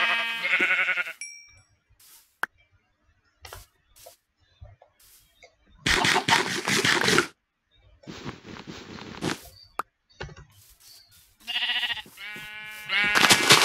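Video game sheep bleat in short separate bursts with quiet gaps between them, loud and close, along with a few small electronic dings.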